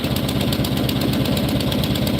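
A small engine runs steadily with the throttle opened up, a loud, continuous close-up rattling drone with a fast knocking pulse and no speech over it.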